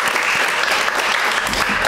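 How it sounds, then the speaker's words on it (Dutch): Brief, dense audience applause for guests at a Dutch panel event on stopping pandemics, a bright continuous clapping wash close and loud with no voices over it. "Een applaus voor de gasten."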